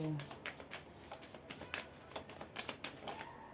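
Tarot cards shuffled by hand, a rapid run of crisp flicking riffles and slaps close up, with someone speaking quietly over it.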